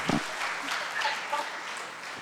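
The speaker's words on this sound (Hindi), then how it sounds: "तालियां बजा के स्वागत कीजिए।" A short burst of audience clapping greets a speaker at a youth conference, opening with a sharp loud clap and then continuing as a moderate, uneven patter over a couple of seconds.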